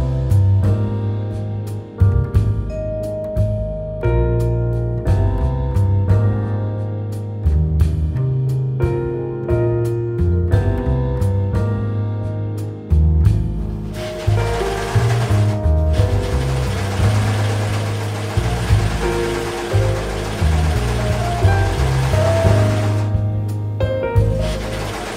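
A sewing machine stitches a garment seam closed, running in repeated bursts of rapid mechanical whirring and clatter, close and loud, with brief stops between runs and no talk.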